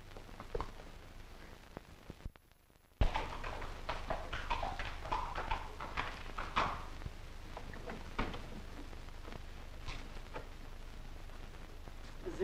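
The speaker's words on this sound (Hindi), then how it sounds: "बेली लो लो चढ़ो घोड़े पे" A horse's hooves clip-clop at a steady walking rhythm on hard ground, close and fairly clear, continuing for several seconds after a brief silent gap.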